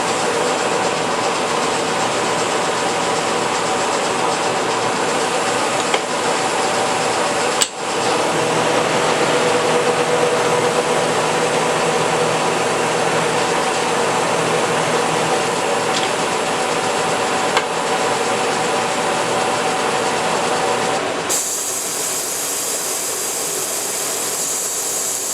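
A cutter grinder works a roughing endmill at 250 RPM with a 3/4 inch per minute feed, giving a loud, steady whirring grind for about twenty seconds, one brief dip midway, before it drops abruptly to a quieter hum.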